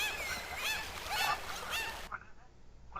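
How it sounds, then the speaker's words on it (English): Goose-like birds honk in a rapid, overlapping flurry of nasal calls, fairly loud and close, before cutting off into quieter background noise near the end. "These are all birds."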